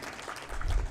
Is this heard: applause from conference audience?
yes